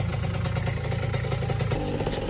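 A Honda NS-1 75cc two-stroke motorcycle rides along a road, its engine droning loud and close with a rapid pulsing buzz and a drop in pitch near the end.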